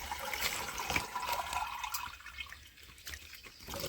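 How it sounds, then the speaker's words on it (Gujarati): Liquid pesticide for a cotton crop is poured into a measuring cup for a sprayer pump, giving a close, steady splashing trickle that tapers off, with no talk. "હવે આપણે આ દવા કપની અંદર નાખીએ છીએ"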